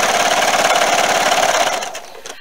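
A domestic sewing machine with a built-in walking foot stitches binding onto a quilt, running close up with a fast, steady mechanical chatter that slows and stops near the end.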